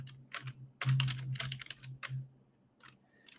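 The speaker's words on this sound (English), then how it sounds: "I'm just terrible at typing" Computer keyboard keys clatter in short uneven bursts, a few quick clusters of taps with pauses between, close and fairly quiet, with no talking.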